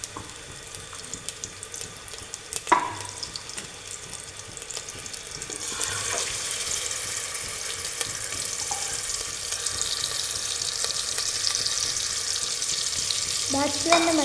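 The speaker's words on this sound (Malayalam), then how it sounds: "ആദ്യം വെളിച്ചെണ്ണ ഒഴിച്ച് അതിലോട്ട് ഈ ചിക്കൻ ഇട്ട് കൊടുക്കാം" Chicken fries in coconut oil in a pan, giving a steady, fairly loud hiss and sizzle throughout, with a few sharp clinks and scrapes of a utensil against the pan.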